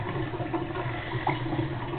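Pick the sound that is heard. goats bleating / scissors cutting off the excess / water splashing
water splashing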